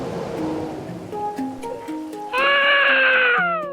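A cartoon baby cries in a dark jungle at night. Softer tonal sounds come first, then one loud, wavering wail rises and holds for about a second before breaking off.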